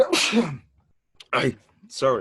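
A single sharp sneeze bursts out near the microphone, followed by a pause and then brief apologetic speech from the same person.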